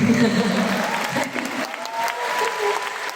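Dense concert-audience applause fills a Hong Kong Coliseum arena at a show, steady and loud throughout, with a host's amplified voice faintly in the mix.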